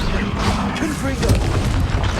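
A Confringo fire-spell explosion in Hogwarts Legacy, a deep rumbling boom with crackling debris under a voice talking.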